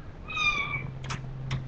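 Stray cats meowing: one clear, drawn-out meow followed by two short, higher calls, close and distinct over a steady low background hum.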